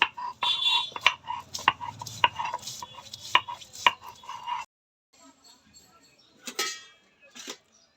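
Ginger and garlic being ground into a spice paste in a home kitchen, with repeated knocking and scraping strokes of a grinding stone, near and fairly loud, broken by a short pause before a few more strokes.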